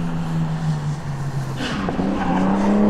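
Car drifting with tires skidding at a Saint Petersburg car meet, heard as a steady engine drone with a sustained tire squeal that rises slightly in pitch, fairly loud and continuous.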